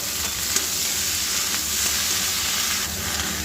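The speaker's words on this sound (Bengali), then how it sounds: "পুঁই মিটুলি বা মিচুরি দিয়ে ভেজে নেবো" Pui metuli vegetables fry in oil with five-spice, making a dense, loud, continuous sizzle with faint stirring scrapes underneath, heard close up with no voices.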